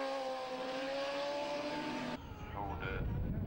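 Suzuki superbikes at the 2010 Cookstown 100 road race, a high engine whine that holds steady then cuts off abruptly, followed by lower roaring as the bikes slow, heard under a commentator's voice.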